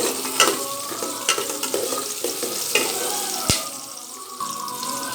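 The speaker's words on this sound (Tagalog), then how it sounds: "ilagay natin ang sibuyas at bawang. Haluin lang." Onion and garlic being stirred and sautéed in a pan for spaghetti pasta, a steady sizzle broken by scraping stirs and a sharp utensil knock, with a quieter settling hiss near the end.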